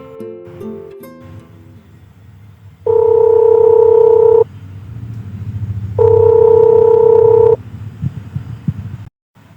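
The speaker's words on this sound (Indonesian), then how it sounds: "ia pun langsung menelpon Albi diam-diam" Two telephone dialing tones ring out loud and clear, each a steady dual-pitch burst of about a second and a half, with a gap between them over a low background rumble.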